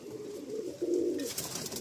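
A Pakistani Teddy pigeon in a breeding loft gives one low, throaty coo that swells and rolls for about a second, close and fairly soft, before a faint airy rustle.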